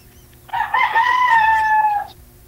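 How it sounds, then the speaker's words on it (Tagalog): A neighbor's rooster crows once, nearby and loud, a drawn-out cock-a-doodle-doo lasting about a second and a half over quiet background hum. "May manok kasi dito sa kapitbahay namin eh."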